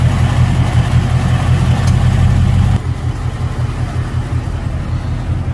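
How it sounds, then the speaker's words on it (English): A truck engine run low on oil idles loudly after warming up, its steady rumble carrying a ticking; partway through the tone drops as the revs settle lower and keep running close by. "as the truck starts to warm up and I give it a little acceleration, that ticking comes back"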